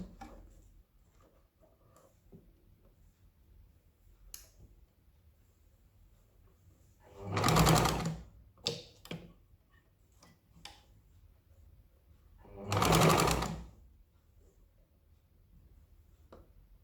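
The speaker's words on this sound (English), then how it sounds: "and start stitching." A sewing machine stitches an umbrella kurti in two short runs about five seconds apart, each roughly a second long. Faint clicks and fabric handling fill the quiet between them.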